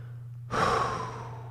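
A single deep, deliberate breath, loud and close, drawn in sharply then slowly released with a breathy hiss, alone against a low steady hum with no talk.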